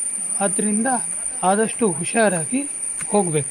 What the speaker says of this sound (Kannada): ಜೀರುಂಡೆಗಳ ಸದ್ದು ಯಾವಾಗಲೂ ನಮಗೆ ಕೇಳಿ ಬರ್ತಾ ಇರುತ್ತೆ